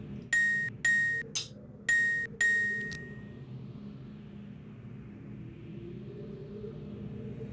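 Bells and a drum in the video game Myst II: Riven sound as five sharp struck tones, two bells, a deeper drum hit, then two more bells, followed by a low ambient rumble.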